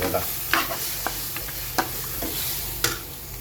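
Camel meat being stirred into masala in a pan for a Kerala curry, a steady close sizzle broken by several sharp scraping stir strokes of a spoon against the metal.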